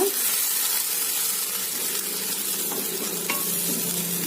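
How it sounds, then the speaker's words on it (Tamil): White pumpkin sizzling in a hot pan while a spoon stirs and scrapes steadily, with a few light clinks of utensils against the pan. "நல்லா மிக்ஸ் பண்ணி விட்றேங்க"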